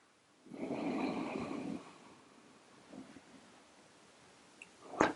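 One slow, soft breath drawn in during calm meditative breathing, close and gentle, followed by quiet near-silence with a faint breathy sound and a small click at the end.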